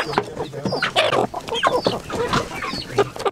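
Indigenous chickens on a small farm with pigs and a fodder greenhouse, clucking close by in quick overlapping bursts, with a hen's higher squawks rising through the busy flock chatter.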